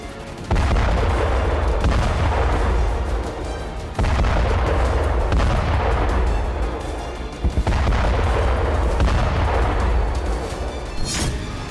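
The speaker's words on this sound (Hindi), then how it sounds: "भारी भरकम बमों का धमाका" Heavy bomb explosions in the Russia-Ukraine war: three loud, deep blasts in succession, each a long roaring rumble that swells and slowly decays, with no voices.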